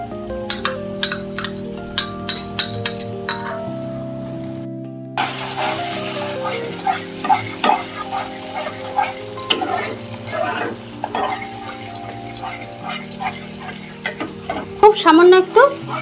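Spice paste with yogurt being stirred and sautéed in a pan for Bengali-style katla fish kalia, with steady sizzling and repeated scraping and clinking of a spoon against the pot, close and fairly loud, alongside some speech.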